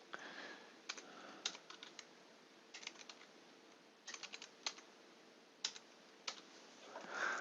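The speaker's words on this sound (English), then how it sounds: "let's type in one last date" A date is typed on a computer keyboard in quick clusters of light, close key clicks separated by short pauses, quiet and alone with no talk.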